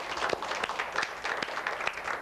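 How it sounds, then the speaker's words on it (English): Fourth graders clapping as a group during a noon local news broadcast in Las Vegas, a fairly quiet, steady patter of hand claps with a few sharper individual claps standing out. "Give yourselves a big round of applause."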